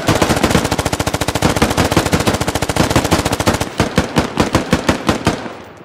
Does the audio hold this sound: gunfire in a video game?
yes